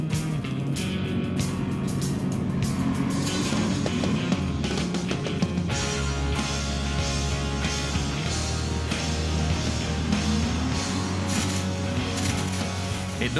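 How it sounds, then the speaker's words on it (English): A Toyota FJ off-road vehicle engine roars and revs continuously while driving over sand dunes, with rattling and bumping mixed in, loud and close throughout. "Pietri and his FJ then brought some noise to the party."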